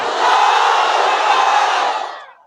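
A large crowd of men at a religious gathering in Dhaka roars a unified takbir shout in reply, one loud sustained collective cry filling the space before fading out at the end.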